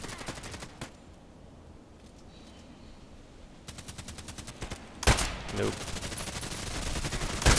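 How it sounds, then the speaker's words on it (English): Bursts of automatic gunfire in a shooter video game, faint rapid volleys early, then a louder, closer burst of shots near the end, with a brief spoken word. "So I should really spare my shots now for exact shots."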